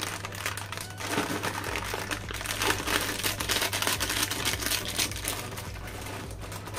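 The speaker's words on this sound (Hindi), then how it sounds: "कर लेते हैं नेक्स्ट पैकेट ओपन" A plastic snack packet, one of a set of cash-back snacks with a free toy inside, torn open and handled, giving close, continuous crinkling and crackling that swells in the middle and carries on to the end.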